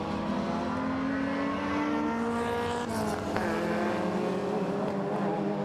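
Retro rallycross cars, a BMW, a Citroën and a flat-fronted British Leyland Mini, race at a championship round. Their engines roar and rev loudly and continuously, with pitch sweeping as they accelerate and pass close by.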